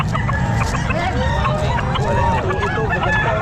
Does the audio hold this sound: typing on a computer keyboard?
no